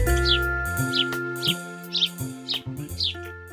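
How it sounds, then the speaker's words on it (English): Cartoon-style birds chirping in a forest in a fairy tale scene, a series of about seven short bright tweets at a regular pace over a sustained musical background. "Snow White was feeding the birds in the forest."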